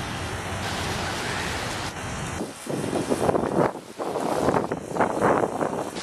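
Steady rain hisses outside, a broad constant wash of noise with gusty wind buffeting the microphone; no voices.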